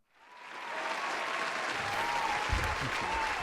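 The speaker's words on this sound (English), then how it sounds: "please give a round of applause" Warm applause for Saddleback College's student government president on a student talk show, swelling quickly from silence into a steady, full round of clapping that holds to the end, with a faint voice underneath.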